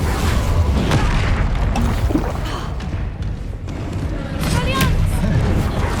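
Spell blasts from the fire spell Incendio in Hogwarts Legacy, a run of dense booming bursts and crackling whooshes amid busy combat effects, loud and sustained with a brief dip midway.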